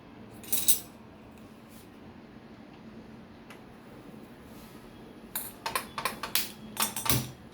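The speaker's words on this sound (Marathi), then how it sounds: "आता गॅस पेटवूया." A gas stove burner being lit in a home kitchen: one sharp click early on, then a quick series of sharp igniter clicks near the end, close and fairly loud against quiet room tone.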